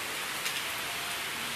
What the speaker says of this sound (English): today it's raining very beautifully, and I thought I should capture this